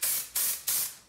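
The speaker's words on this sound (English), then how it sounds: "do short bursts of spray" Hairspray is released from a can in three quick, evenly spaced hissing bursts. Each spurt starts sharply and tails off, close to the microphone.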